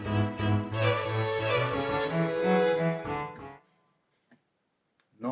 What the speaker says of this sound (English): That's just a very basic MIDI coming out of Musescore